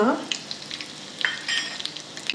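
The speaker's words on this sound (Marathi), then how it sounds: "तेल तापलेलं आहे। आता जिरे आणि मोहरी घालते" Cumin, mustard seeds and asafoetida splutter in hot oil in a kadhai as tempering for a chana dal curry, a close sizzle peppered with sharp irregular pops and crackles throughout.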